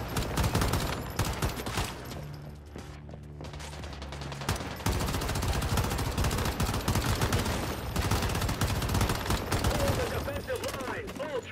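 Dense, continuous gunfire fills the scene in the survival shooter game Once Human, with rapid bursts and heavy impacts layered with game sounds, loud and unbroken throughout.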